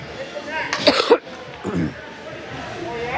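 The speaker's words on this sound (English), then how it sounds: "Sorry to cough in your ear." A couple of sharp coughs burst out close to the mic around the one-second mark, followed by a softer throat noise, over faint background crowd murmur.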